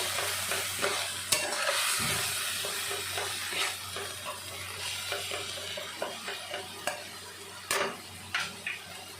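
Masala with red chilli powder stirred in a hot pan for an Odia-style mixed vegetable curry, a steady close sizzle with scraping spoon strokes and sharp clinks against the pan, no voices.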